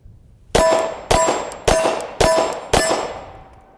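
Five evenly spaced Glock 43 pistol shots from about 7 yards, each a sharp crack followed by a bright ringing clang off a steel plate, close and loud.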